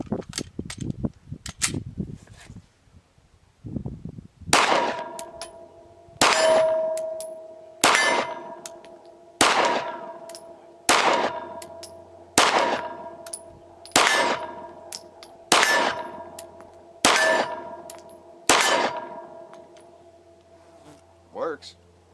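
Ten pistol shots from a P10C loaded with Hornady 124 grain XTP bullets ring out at an even pace, each a sharp, loud crack with a metallic clang and ringing tail, after some brief handling noise.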